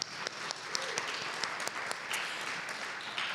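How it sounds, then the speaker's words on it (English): A press-conference audience claps for a city housing program, a moderate, steady patter of hands with a few sharper claps standing out, heard from a short distance. "Let's give it an applause"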